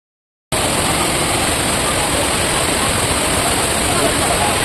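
A waterfall reached by climbing over rocks gives off a loud, constant broadband roar up close. It starts suddenly after a short silence and holds steady throughout.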